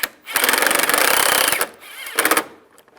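Power tool driving front bumper screws on a 1999-2005 Volkswagen Jetta, two close buzzing bursts, a longer one then a short one, with a pause between.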